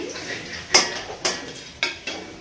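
Fried potatoes lifted out of a pan of oil, heard as three or four sharp metallic clinks of a utensil against the pan spaced about half a second apart, over a faint low hiss, with no talking.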